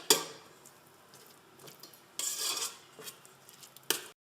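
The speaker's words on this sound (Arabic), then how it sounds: "راح نحمص هذه المكونات قليلا" A small amount of onion and garlic sautéing in two spoons of oil, with a faint sizzle broken by a few metallic scrapes and clinks of a utensil against the pan.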